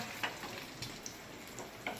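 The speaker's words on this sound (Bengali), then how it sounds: "এই রাত্রিবেলা এখন ডিম ভাজছি" Quiet, steady sizzle of eggs frying in a pan, with a few soft clicks and taps scattered through it.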